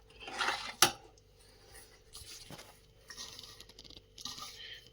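Chana halwa being stirred in a pot, faint scraping of a spoon against the metal with one sharp clink early on, then soft intermittent scratching and shuffling at low volume.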